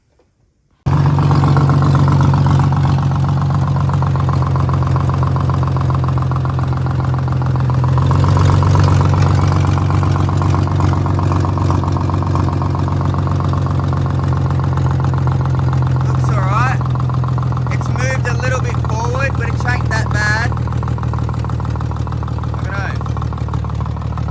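A Ford AU Falcon skid car with a newly fitted Astra power steering pump and serpentine belt starts after a short silence, then settles into a steady, close idle with a slight surge midway and brief whines or voices near the end.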